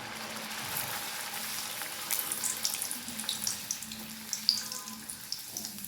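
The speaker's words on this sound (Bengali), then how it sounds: "তেলটা গরম হয়ে গেছে, দেখো। এখন আমি লুচিটা দিয়ে দেব।" Carrot luchi puffs in hot oil with a soft, steady sizzle and scattered bubbling crackles, quiet and close, with no talking.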